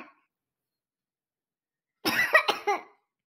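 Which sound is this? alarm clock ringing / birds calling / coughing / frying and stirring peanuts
coughing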